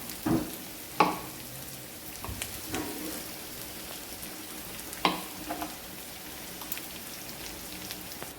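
Tomato chutney with ground peanuts and garlic sautéing in a pan, a soft continuous sizzle punctuated by several scraping stirs and utensil knocks.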